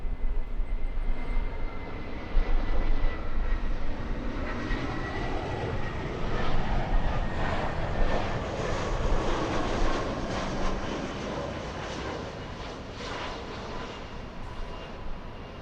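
An Airbus A319 airliner arrives at LAX in wind, a steady broad engine roar and rush that stays loud and fairly close throughout, with no talk.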